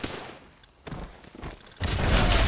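Sharp gunshots crack amid a chaotic firefight in Call of Duty: World at War, followed by a heavy burst of loud, sustained gunfire and booming impacts.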